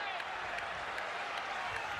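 Baseball crowd at Fenway Park during a Yankees at Red Sox game, a broad distant roar of cheering and clapping rising behind a commentator's voice.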